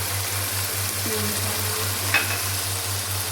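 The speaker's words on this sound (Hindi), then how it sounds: "अब हम इसको भून लेते हैं। इसके अंदर हम ये 1 चम्मच जो हमारे पास धनिया पिसा हुआ ये हम शामिल कर देते हैं" Keema frying in a pan with ground coriander being added, a steady bright sizzle with a low constant hum underneath and a brief scrape of stirring near the middle.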